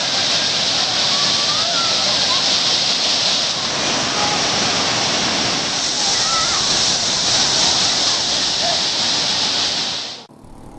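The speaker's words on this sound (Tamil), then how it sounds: "திருப்பரப்பு அருவியில் உற்சாக குளியல் போட்டனர்" Thirparappu falls, crowded with tourists bathing, gives off a loud, constant rushing roar of falling water that fills the scene without a break, then stops abruptly at the end.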